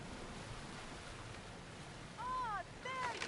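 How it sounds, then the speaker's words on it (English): Sea waves wash around a boat in Assassin's Creed Odyssey, a steady soft rushing surf with a brief tonal cry rising near the end. "I don't think this boat can take those waves."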